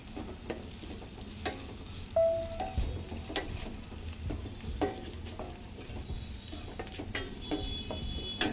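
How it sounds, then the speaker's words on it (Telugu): Ginger garlic paste frying in a pan for aloo palak, with a steady sizzle and a run of spoon taps and scrapes as it is stirred, moderately close and without talk. "1 టేబుల్ స్పూన్ అల్లం వెల్లుల్లి పేస్ట్ వేద్దాం. వేసి దీన్ని ఇప్పుడు మనం బాగా ఒకసారి కలుపుకుందాం."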